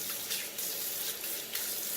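Hands rinsed under a running hot-water tap at a sink, a steady close hiss and splash of flowing water with brief surges as the hands move through the stream.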